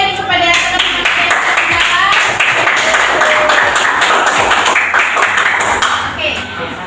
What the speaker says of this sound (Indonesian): beri tepuk tangan lagi kepada teman-teman saya